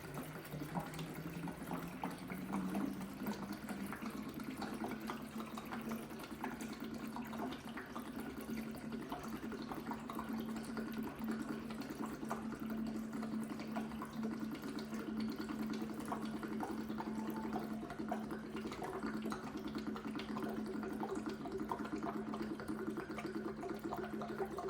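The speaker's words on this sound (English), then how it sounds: "Now let's go ahead and put this water in and see if I can do this without spilling it all over the place." Water poured from a one-gallon container into an indoor transparent garden, a steady continuous trickle and splash lasting about twenty-five seconds, close and fairly quiet with no speech.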